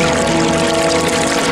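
Cartoon water effect for waterbending in the Avatar series, building a huge wave: a loud, close, continuous rushing pour with a steady tonal hum.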